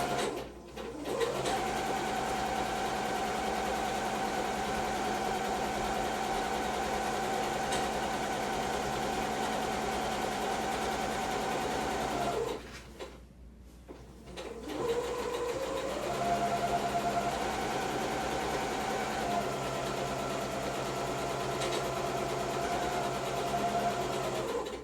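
A sewing machine runs a long straight seam on a drawstring bag made with French seams, humming steadily and close, pausing briefly once before starting up again at the same pace.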